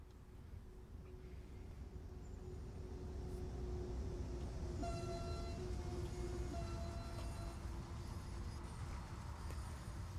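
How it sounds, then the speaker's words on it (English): Locomotive hauling freight wagons past a trackside viewpoint in Train Sim World on the Main-Spessart line, a faint, steady rumble of rolling wheels with a whining hum and tonal squeals partway through. "Just get ourselves a nice trackside camera view of the locomotive going past."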